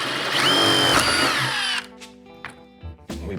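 A power drill fitted with a dual-flute brad point hybrid bit whines loudly while boring through wood, then cuts off abruptly after about two seconds, followed by a few faint knocks and handling sounds.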